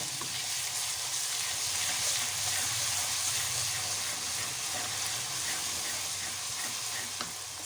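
Browned onions sizzle in a pan as ginger garlic paste is stirred in, a steady, even frying hiss with faint scraping throughout, no voice present.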